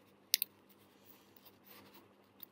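Scissors snipping open a homemade trading card booster pack: two quick, sharp close cuts early on, then faint rustling and a small click at the end, all quite quiet.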